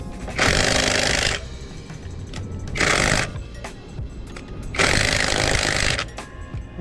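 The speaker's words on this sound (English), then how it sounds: "I'm going to take my drill here." A power drill loosening the wheel bolts on a 2002 Honda Civic Si whirs in three loud bursts of about a second each, separated by quieter rattling and engine-like background noise.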